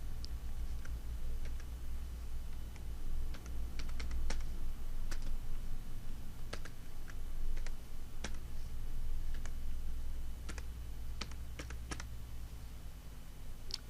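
Typing text on a computer keyboard: light, irregular keystroke clicks spread over about fourteen seconds above a steady low background hum, close but faint, with no talking.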